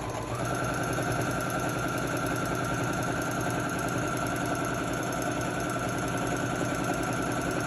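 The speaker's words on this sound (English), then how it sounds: "I'm going to back tack, and I'm gonna be sewing really close to this" A sewing machine stitches a blind hem close to a folded fabric edge with a steady, rapid mechanical whir and rhythmic needle chatter that runs continuously and alone.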